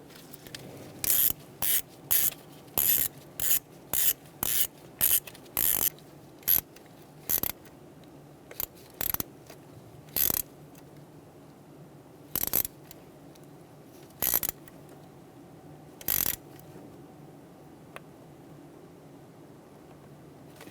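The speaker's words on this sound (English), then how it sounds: "Get your bolts started." A hand ratchet tightens bolts on the ignition control module of a 1988-1999 GMC K1500 5.7L V8, heard as close, short bursts of rapid clicking separated by pauses, growing sparser toward the end.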